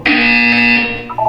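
A loud, sustained electronic buzzer from the Portal 2 video game sounds once for about a second, a harsh steady tone that cuts off and leaves a brief fading tail.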